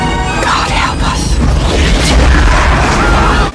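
Enemy cannons fire in a film battle scene, producing a loud, continuous, rumbling barrage of booms and blasts that fills the whole stretch without a break.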